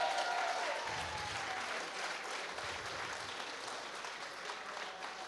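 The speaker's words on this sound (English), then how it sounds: "So let's give them a round of applause." A comics festival welcome and awards ceremony audience applauds its volunteers with a broad, steady wash of clapping from a large crowd, heard at a moderate distance and fading gradually, with no talking.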